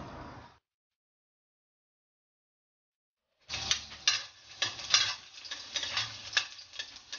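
Pork pieces frying in hot cooking oil in a frying pan for adobo: after a short burst and a silent gap, crackling sizzle resumes with irregular pops and stirring scrapes, close and fairly loud.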